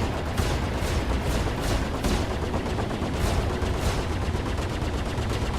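Rapid gunfire strikes a spaceship in the Star Citizen video game, a dense continuous rattle of shots hitting the hull at steady loudness.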